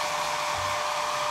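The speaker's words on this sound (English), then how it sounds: "I use a dryer sometimes." Steady, close hair dryer blowing at full power on a freshly bathed dog, a constant whooshing motor hum with no pauses throughout.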